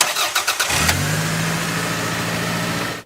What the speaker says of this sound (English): then start the car so you guys can see that it fixed our problem